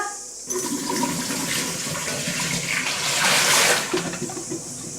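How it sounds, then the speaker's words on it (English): Water from a flower vase is tipped out in one loud gushing pour that swells toward the end and then cuts off, close by with no voices. "So now all I have to do to finish it, to start it all off, is tip out the water"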